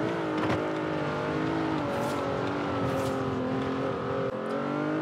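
A Jeep Wrangler Rubicon in Forza Horizon 4 drives across a field in winter: a steady, droning engine held at constant revs with a slight rise and dip in pitch, loud and continuous, with no voices.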